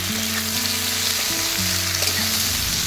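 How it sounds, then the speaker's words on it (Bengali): Chopped vegetables frying in mustard oil alongside browned onion, chilies and tomato, a continuous near sizzle with light stirring and no voices. "তার সঙ্গে আমি সবজিগুলো ভেজে নেব।"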